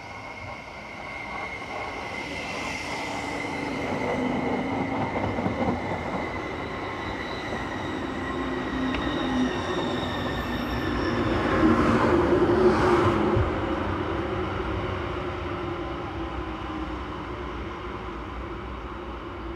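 Train 1121 from Landquart to Davos Platz, hauled by locomotive number 630, passes with a rolling rumble that swells toward the middle and carries faint wheel squeal, with no voices.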